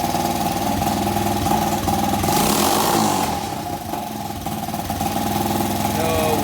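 A small gas engine fitted to a Power Wheels Ford F200 runs loudly nearby, idling and then revving up and easing back, with a sputtery pulse, as a person talks over it.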